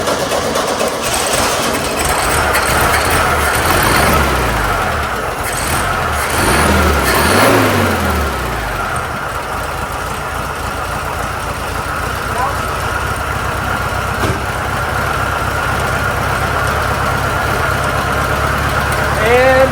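A 1972 VW Super Beetle engine, freshly fitted with a new carburetor, fuel filter and fuel hose, runs steadily and fairly loud for the whole stretch, with a low continuous rumble and no clear pauses.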